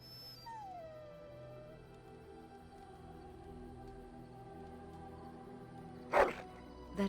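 A dog in the video game Dragon Age: Origins gives a drawn-out, falling whine-like howl at the start, followed later by one short, sharp bark-like burst near the end over a quiet ambient backdrop.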